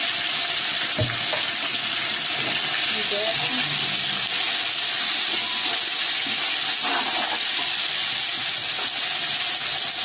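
Ginger and garlic hit hot oil in a biryani pot, raising a loud, continuous sizzling hiss that stays close and steady, with a voice faintly underneath.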